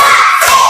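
A school class claps hands together in unison, a short burst of dense, loud clapping.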